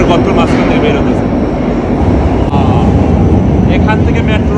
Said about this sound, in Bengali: এই যে মেট্রো আসতেছে, দেখেন ইঁদুরের গর্তের মাঝখান থেকে বের হতেছে